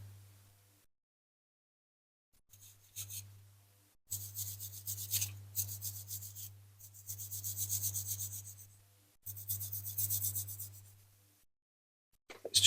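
Stiff brush scrubbing the body of a Dinky Toys 40g Morris Oxford diecast toy car during restoration, in several close, rasping bursts of back-and-forth strokes separated by short pauses, with no talking.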